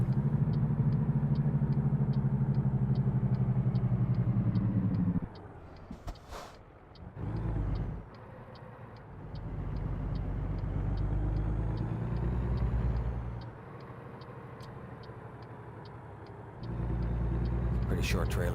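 A truck with short trailers driving in the American Truck Simulator game, a steady low engine rumble that drops and swells with gear changes, with a brief air-brake-like hiss, under a voice talking throughout.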